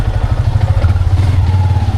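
A motorcycle engine idles with a steady, throaty low rumble and a rapid pulsing beat, loud and close throughout.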